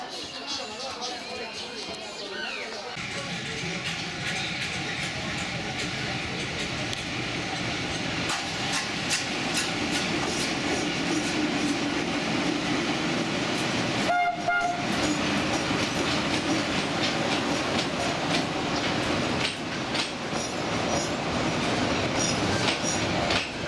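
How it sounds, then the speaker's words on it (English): A train in Myanmar rumbles steadily along with rhythmic wheel clatter and a brief horn-like tone midway, loud and close throughout, with faint voices underneath. "Train journey."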